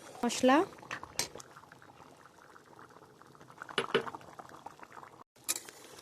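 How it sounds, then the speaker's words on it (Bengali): Curry bubbles in a pot on the stove with a soft, continuous simmering burble, close by, broken by a few louder clatters and splashes near the start and end. "তরকাটা কিছুক্ষণ ফুটে গেল"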